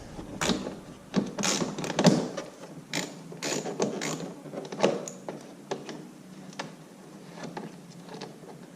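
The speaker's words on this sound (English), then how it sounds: "So I'll get into it and start loosening the bolts." Ratchet clicking in bursts while loosening the bolts on the belly pan of a BMW F80 M3, with a quick series of sharp mechanical clicks and small metallic knocks, close by and with no voices.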